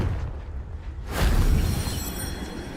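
A Confringo fire spell in Hogwarts Legacy bursts into a rumbling explosion after a brief quiet moment, a deep boom that fades into a crackling tail.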